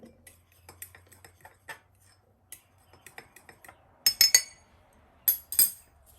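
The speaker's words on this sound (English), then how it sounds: "Then we're going to use our fork to whisk it together." A fork whisks cake batter in a mug, making light scattered ticks against the ceramic early on, then a few louder, quicker clinking bursts, close and otherwise quiet.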